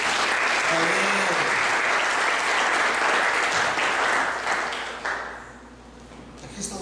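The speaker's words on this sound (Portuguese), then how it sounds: "Vamos dar uma salva de palmas para Jesus." A church congregation applauds during a Portuguese-language service, a loud, dense clapping that fills most of the clip before thinning out toward the end, with a voice faintly present.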